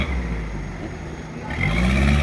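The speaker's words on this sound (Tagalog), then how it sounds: "Toyota makina." A Toyota 4x4 off-road racer's engine droning at a steady idle, then rising into a louder rev in the final second, close by with no talk.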